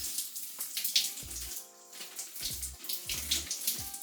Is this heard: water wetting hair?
yes